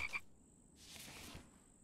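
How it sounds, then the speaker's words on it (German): A frog croaks in the survival video game The Infected, a faint raspy call heard under a steady high ambient hiss and low game background. "Da ist noch ein Frosch, komm."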